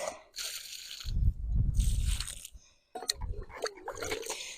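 Water poured from a heavy bucket onto cucumber plants in a garden, a splashing, gushing pour in two main bursts with a short pause between them, close and fairly loud.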